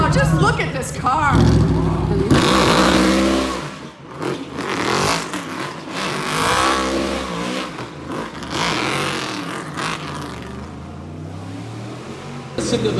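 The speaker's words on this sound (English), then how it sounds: "Listen to the thunder of this exhaust, this GT3 with Mike Rockefeller." Loud roaring GT3 sports car exhaust revving and passing by at the Red Bull Showrun in downtown Minneapolis, rising and falling in waves, with excited shouting and crowd voices mixed in.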